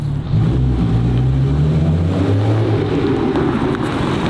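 A 1300-horsepower Nissan GT-R with a Gintani-built motor roars loudly as it accelerates in first gear, its engine note climbing steadily in pitch over a few seconds.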